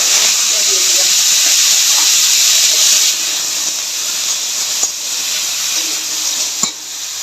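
Panch phoron spices crackling in hot oil, a loud steady hissing sizzle close by that eases slightly after a few seconds, with a couple of sharp ticks.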